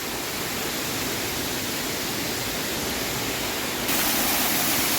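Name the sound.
waterfall at Murga Mahadev temple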